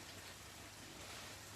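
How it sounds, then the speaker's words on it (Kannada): Steady rainfall on a forest road near Kuduremukha, a dense, even hiss of drops with no voices and no distinct individual impacts. "ಗೈಸ್, ಇವಾಗ ಹೊರಡೋಣ ಅಂದ್ರೆ ಮಳೆ ಬರ್ತಿದೆ."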